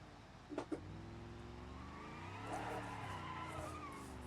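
A car in the BeamNG.Drive driving game skids through a drift, its engine droning with rising and falling pitch while tyres squeal, opening with a couple of short knocks.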